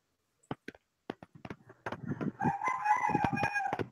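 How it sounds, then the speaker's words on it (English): A rooster crows loudly and close by, a long drawn-out call following a few short clucks and rustles. "that's the rooster at my place"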